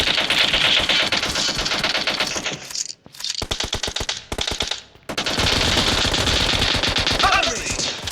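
Rapid, loud shotgun fire in the mobile shooter game PUBG Mobile, sustained bursts of dense blasts with brief pauses, mixed with game effects and no talk.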